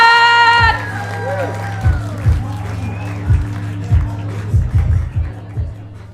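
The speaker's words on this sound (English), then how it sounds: "Come on, keep the applause going. Let's get louder." Comedy competition crowd applauding and cheering as the next act takes the stage, a dense roar of clapping and whoops from a large live audience, with loud bursts and stomps over a steady sustained wash.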